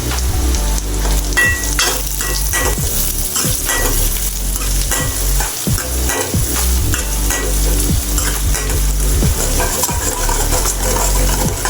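Steady, loud sizzling of curry leaves frying in hot oil for a Tamil eggplant curry, with crackles and pops throughout and occasional stirring clinks.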